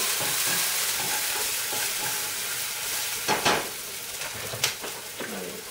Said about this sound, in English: we're going to go over here and back to our onions while they're sauteing